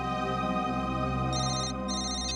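A mobile phone ringtone for an incoming call plays loud and steady, a sustained electronic melody with a brighter repeating chime layer entering partway through, no voices.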